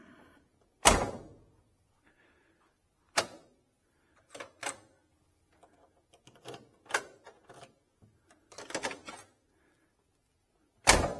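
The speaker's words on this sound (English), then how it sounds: "They just snap shut." The doors of a 1969 Oldsmobile 442 snap shut in a series of sharp, close clicks and latch thunks spread across several seconds, with quiet gaps between them and no talking.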